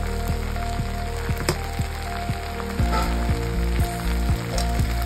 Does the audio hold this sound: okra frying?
yes